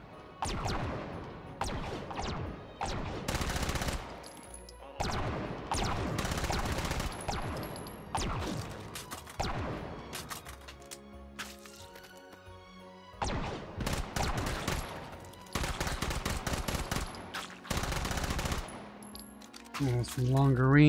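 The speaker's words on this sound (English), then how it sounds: "Fire from the hip." Gunfire in the VR shooter Hot Dogs, Horseshoes & Hand Grenades, with loud rapid bursts of automatic fire fired from the hip, broken by short pauses and metallic clicks of weapon handling.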